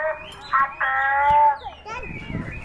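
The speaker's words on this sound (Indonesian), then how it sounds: "Eh, burung." A bird chirps at a street food stall in Brebes, Indonesia, with a few high, nearby calls mixed in among people talking.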